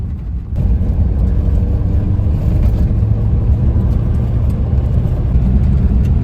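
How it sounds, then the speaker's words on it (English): A vehicle speeds along a gravel road on an old mining route, its tires making a loud, steady rumbling roar close by, with no talk. "Time to go rally driving."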